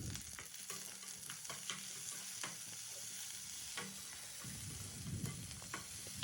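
Garlic, ginger and tomato fry in hot oil for a country-style chicken sambar, giving a steady close sizzle with frequent scraping stirs and clinks throughout, and no voices.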